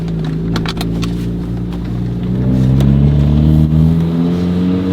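A Volkswagen MK6 Golf R with an upgraded TTE480 turbo passes by under a steady, loud engine drone that swells as it nears, with a rising rev in the last seconds and no voices.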